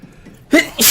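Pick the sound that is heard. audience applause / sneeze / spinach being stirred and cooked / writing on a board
sneeze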